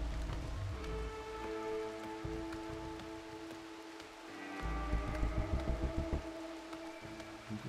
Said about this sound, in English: This rain is torrential.